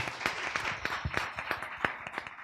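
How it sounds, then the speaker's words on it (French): A small audience at a fashion show applauds again, a brisk patter of distinct hand claps, fairly soft and somewhat distant, carrying on steadily. "Est-ce qu'on peut l'applaudir encore?"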